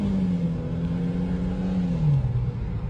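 A Chevrolet Cruze 1.8 engine revs up close by, a steady mid-pitched drone rising gently then easing down over a few seconds, with no talking.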